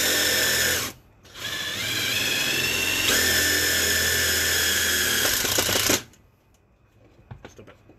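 A power drill runs with a steady, loud whine for about five seconds during work on a 4/0 wiring harness, briefly stopping and restarting, then cutting off into quiet handling noise.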